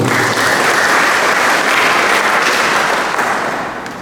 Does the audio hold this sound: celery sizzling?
no